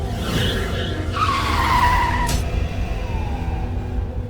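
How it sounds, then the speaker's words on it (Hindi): A jeep on a foggy road skids to a sudden stop, its tires squealing loudly for a second or two over a continuous engine rumble that then settles, with no talk. "जीप अचानक रुक गई।"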